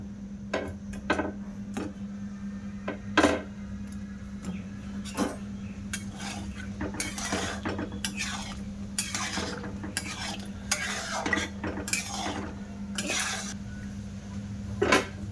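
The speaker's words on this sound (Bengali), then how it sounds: "এবার যে মিষ্টিগুলো আমি ভাজা করে নিয়েছিলাম, মিষ্টিগুলো আমি দিয়ে দেব চিনির শিরার মধ্যে" Fried bread sweets are being stirred into sugar syrup in a pan: repeated spoon clinks and scrapes against metal land in an irregular rhythm over a low, steady background hum, with no talking.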